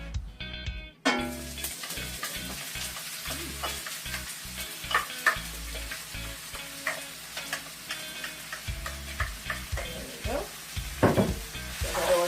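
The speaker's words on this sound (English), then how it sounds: "the butter is melted. We're going to put the onions right in." Onions tipped into melted butter in a pan sizzle and crackle steadily, with repeated stirring scrapes and clinks of a utensil, close up and moderately loud, for beef Wellington.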